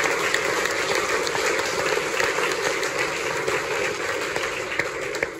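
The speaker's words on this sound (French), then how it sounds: "Je vous demande de l'applaudir." Audience at a Légion d'Honneur medal ceremony applauds steadily, a dense and even wash of many hands clapping that fills the room without pause.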